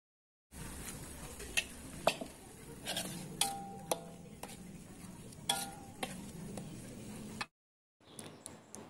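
Spices such as ginger, bay leaf and lime leaf sizzle and crackle in hot oil, with sharp clinks and scrapes of a utensil stirring against the pan, close and steady before a brief pause.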